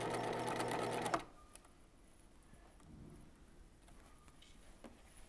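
A sewing machine runs a fast, steady stitch down a skirt seam toward the fabric fold, loud and close for about a second before stopping abruptly, leaving quiet room tone with a few faint clicks.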